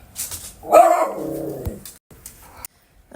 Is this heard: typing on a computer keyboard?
no